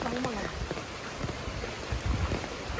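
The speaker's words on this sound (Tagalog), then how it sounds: "Napakasipag ng ulan, no?" Heavy monsoon rain falling steadily in a flooded town, a dense, continuous hiss of downpour with occasional low rumbles and scattered spatters close by.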